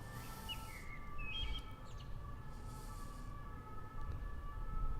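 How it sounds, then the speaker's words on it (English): Faint, distant emergency sirens wail outdoors in steady, drawn-out tones, with a few rising sweeps and scattered bird chirps over a low background rumble. "Why there are so many sirens? Sorry guys for annoying sirens."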